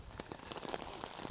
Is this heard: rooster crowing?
no